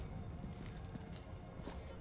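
A horse galloping in the video game Homefront: The Revolution, with quick, continuous hoofbeats over steady game background noise.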